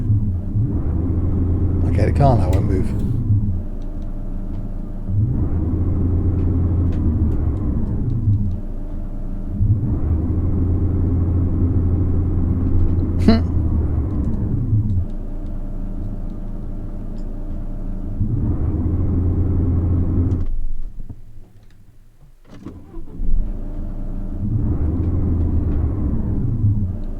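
A car in Tourist Bus Simulator gives off a loud, low engine rumble that swells and drops in repeated cycles as it strains without accelerating, with a short lull near the end.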